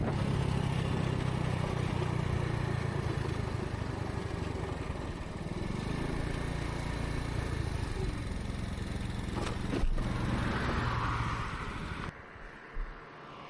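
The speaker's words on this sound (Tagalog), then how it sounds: "Ayun yung motor na gamit natin." Motorcycle riding along a road in Palawan, with a steady engine drone and wind rush running continuously, briefly rising near the end before dropping off.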